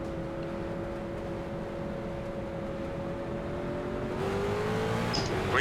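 Street stock race cars in iRacing at Lanier National Speedway, with a steady droning engine note that climbs in pitch toward the end as the field accelerates, continuous and fairly loud with no talk.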